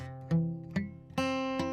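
Guitar chord plucked string by string in a slow arpeggio, each note ringing into the next, with a brighter strum near the end, no voices.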